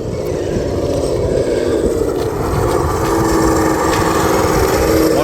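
A Chevrolet Blazer 4x4 puller truck crawls along in low gear, its engine giving a loud, steady, rough drone that holds constant without pauses.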